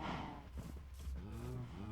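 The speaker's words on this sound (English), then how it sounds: "You can hear all my cows in the background." Cows mooing in the Minecraft video game, a game farm with many bred cattle penned together, giving low, drawn-out moos that overlap steadily through the clip at moderate loudness.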